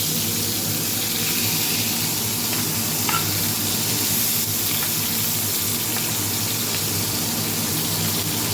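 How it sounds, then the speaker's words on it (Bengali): Kebabs frying in a pan give a steady, close sizzle that runs unbroken for the whole stretch, with no one speaking. "তো এদিকে কাবাবগুলো ফ্রাই হয়ে গেল"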